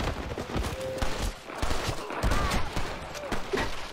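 Rapid bursts of gunfire from a repeater carbine in a free-for-all video game match, with crackling shots and clattering effects filling the scene at fairly close range, broken by brief lulls.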